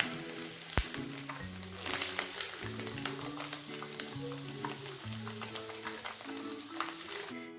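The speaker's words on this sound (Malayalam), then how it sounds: "ചിക്കൻ എല്ലാം ഫ്രൈ ചെയ്തെടുത്തിട്ടുണ്ട്" Chicken pieces deep-frying in oil for chilli chicken, a steady close sizzle and bubbling with irregular crackles and a few utensil knocks, continuous throughout.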